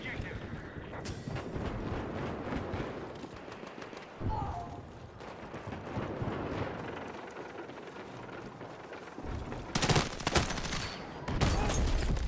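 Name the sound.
gunfire in the video game Battlefield 6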